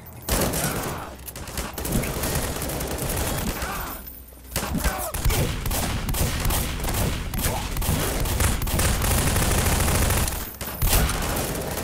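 An AR2 rifle firing in the game Garry's Mod: loud, sustained bursts of rapid automatic gunfire with brief pauses between them.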